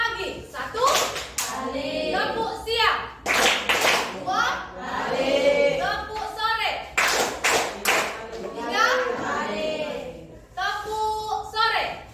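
Schoolchildren in a classroom guidance session clap their hands in rhythmic patterns while chanting together, the sharp clap bursts alternating and overlapping with their loud group voices.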